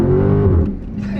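A 2018 Dodge Charger Daytona 392 V8 revs briefly as the throttle is hit, a deep rumbling engine note rising then settling within about a second, close and loud inside the car.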